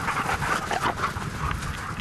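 Sled dogs in Qaanaaq, Greenland, whine, yip and howl together as a restless pack, a dense, continuous chorus of overlapping cries close by.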